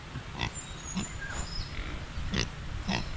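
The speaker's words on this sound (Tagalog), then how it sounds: "Yan po baboy, yan po ay purong Tagalog." Newly acquired pig on a small vegetable farm grunting in a few short, separate bursts, close to the microphone over a steady outdoor background with no talk.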